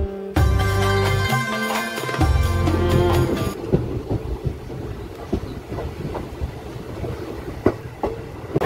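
A train approaching Purulia Junction on a rainy morning: a loud musical opening gives way after a few seconds to a rumbling carriage interior with rhythmic clacks of wheels over rail joints. No voices can be heard.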